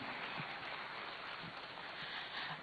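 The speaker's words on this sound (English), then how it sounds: "A round of applause, ladies and gentlemen." Broad, even rain-like patter of audience applause in a hall at a commemorative lecture, continuous and fairly faint throughout with no clear individual claps standing out.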